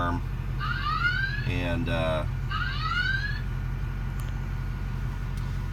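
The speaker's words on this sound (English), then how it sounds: "I'm not going to make y'all listen to that alarm all day long." Sweeping electronic alarm tones rise in repeated chirping bursts over a low steady hum, fairly close, then stop partway through while a voice speaks briefly.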